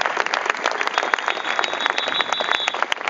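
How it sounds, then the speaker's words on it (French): A crowd at a CGT union meeting at the Ministry of Labour breaks into dense, steady applause, many hands clapping loudly and continuously throughout. "Attendez avant d'applaudir"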